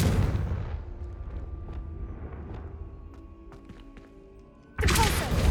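A fiery blast from the Confringo spell in the video game Hogwarts Legacy, a deep booming impact that fades slowly, then a second sudden loud burst near the end, with no talking.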